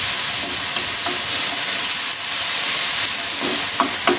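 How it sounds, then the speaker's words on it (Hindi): Onions browning in a hot pan give a steady, dense sizzle and frying hiss, with a few sharper pops and crackles near the end. "हल्का सा ब्राउन कर लें प्याज को।"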